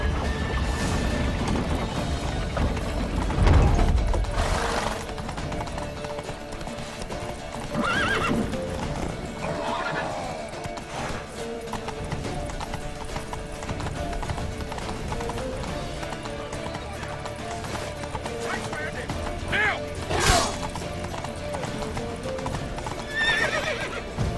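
Horses gallop and neigh in The Witcher 3: a continuous clip-clop of hooves runs throughout, broken by several loud whinnies and occasional crashes over a busy game soundscape.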